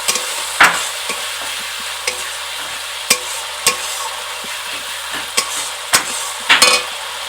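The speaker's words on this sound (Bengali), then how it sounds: "তেঁতুলের শাঁস দিয়ে দেবো, ভালো করে মিশিয়ে নেব।" A spoon stirs tamarind pulp into a sour-spicy mourala fish curry, giving a series of sharp scrapes and knocks against the pan about once a second over a steady sizzle.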